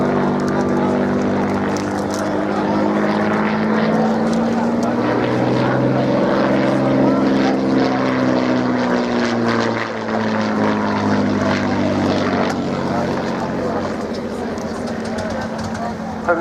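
A 1930s Hawker Fury biplane flies past at the 2018 Cosford airshow. Its piston engine and propeller drone steadily, rising and falling in pitch as it passes, while an announcer talks over it throughout.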